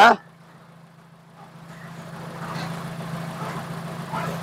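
A Proton Saga VVT engine settles into a steady idle after a brief loud burst at the start, a low continuous hum rising gradually in level, with faint mechanical rattles over it.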